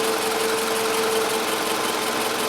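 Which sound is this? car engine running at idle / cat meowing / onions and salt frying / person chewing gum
car engine running at idle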